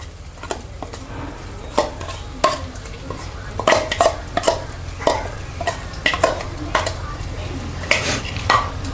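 A spoon stirs thick masala paste in a hot pan for a restaurant-style matar paneer curry, giving repeated scraping strokes with a soft sizzle underneath, close and steady throughout.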